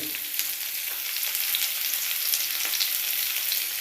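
Pumpkin pieces with turmeric fry in a pan while being stirred, giving a steady, close, dense sizzle with faint scraping throughout and no voices.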